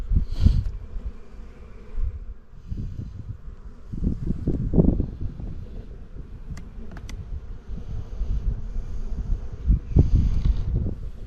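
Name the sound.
honeybees buzzing in a hive box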